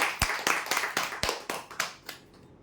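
A small audience applauds at a prize draw announcement: about ten separate, evenly spaced sharp claps that fade out over two seconds.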